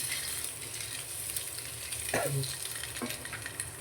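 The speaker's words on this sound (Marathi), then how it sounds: "आता ह्याच्यामध्ये जाईल पहिला खडा मसाला" Whole spices, including bay leaf and star anise, sizzle in hot oil in a pan for egg biryani, a steady close frying hiss with a few sharper crackles as more goes in.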